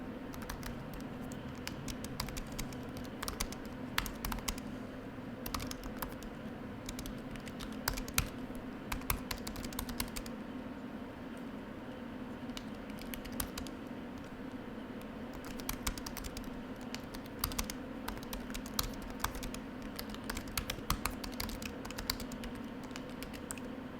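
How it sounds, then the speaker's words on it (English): Fast, steady typing on the keyboard of a 13-inch MacBook Pro with Touch Bar, with soft, close clicky keystrokes pattering continuously in a quiet room. "here's a quick sound test of how it sounds"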